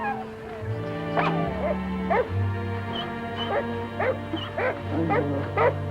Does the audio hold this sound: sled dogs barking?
yes